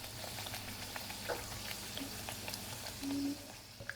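Fasting-style dahi vada fry in hot oil, a faint, even bubbling sizzle with scattered soft pops and a brief tonal hum near the end, quiet and with no voices.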